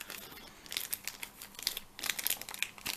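Cellophane wrappers crinkle and crackle as Pokémon cards are pulled free, in quiet irregular bursts close by with short pauses and no talk.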